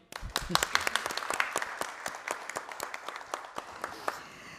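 Applause breaks out from the audience at a solemn session of a state legislative assembly, sharp individual claps distinct over a moderate wash, with some murmuring underneath.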